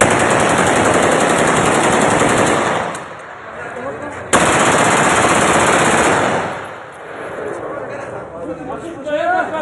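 Bursts of celebratory aerial gunfire from an automatic weapon in Peshawar, loud and sustained for several seconds, dropping away briefly and then resuming, with people talking over the shooting.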